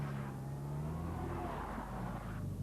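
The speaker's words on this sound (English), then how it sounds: "One sport where Minis have always been competitive, and still are, is auto testing." A Mini being driven hard in an auto test, racing against the clock between bollards, its engine droning steadily and loud throughout with rising and falling pitch, no talk.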